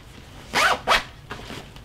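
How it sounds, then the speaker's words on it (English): Zipper on the lid pocket of a Mystery Ranch Treehouse 38 backpack, pulled in two quick close rasping strokes followed by a softer third pull, crisp and near with no voices. "But both of these zippers, one on the inside, and then one here on the back,"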